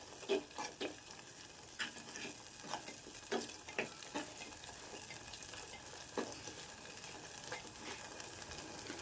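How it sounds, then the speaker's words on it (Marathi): Spice masala fries in oil for a handi vegetable dish. A spoon scrapes and stirs in repeated short strokes over a soft, continuous sizzle, quiet and close. "जोपर्यंत आपल्याला तेल सुटत नाही मसाल्यांना तोपर्यंत व्यवस्थित भाजून घेणार आहे फ्राय करणार आहे"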